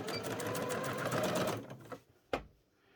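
A sewing machine runs steadily for about a second and a half, stitching a seam on a doll's school shirt at presser-foot width, then stops, followed by a single sharp click.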